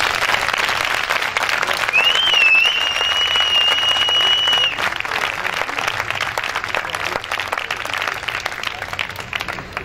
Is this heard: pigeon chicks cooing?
no